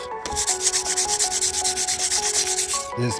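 Coarse 60-grit sandpaper rubs against the clear coat on an old OBS truck in fast, steady back-and-forth strokes, loud and close, with no talking.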